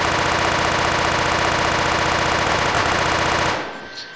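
Halo assault rifle hip-fired in the video game Guncraft, a loud, rapid unbroken stream of automatic shots lasting several seconds before cutting off abruptly.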